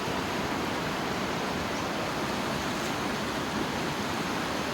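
A stream flows through the Laos countryside, a constant, full rushing of water with no voices heard.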